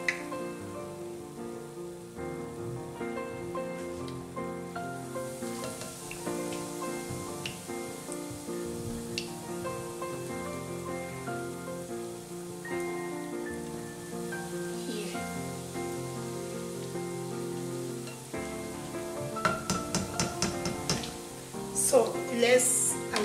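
Cheese ball snacks fry in hot oil with a soft continuous sizzle beneath a gentle music track, a few clattering touches near the end as pieces are handled.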